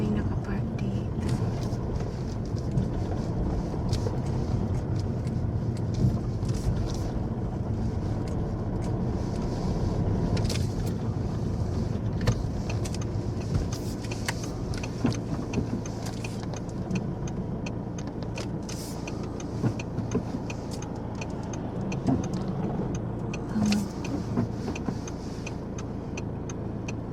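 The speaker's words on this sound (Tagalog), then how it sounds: "Ang dami naman sasakyan." Cars pass steadily along a sunny street during a walk, with constant traffic rumble close by and soft talk over it.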